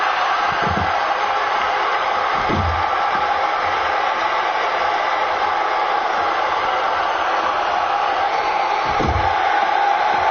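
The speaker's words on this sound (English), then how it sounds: "You hear this crowd cheering for Crusher Khrushchev once again." A large crowd roars steadily throughout, a dense wash of cheering in the wrestling video game WWE 2K17, with a few dull thuds underneath.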